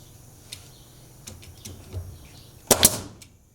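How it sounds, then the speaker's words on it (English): A nail gun drives a single nail into assembled boards, one sharp loud crack with a short rattling tail near the end, after a few faint clicks and handling sounds. "we're just going to shoot a nail into here"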